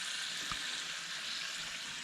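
Bacon frying in a pan gives a steady, close sizzle of broadband crackle that holds evenly throughout, with one small tap near the start.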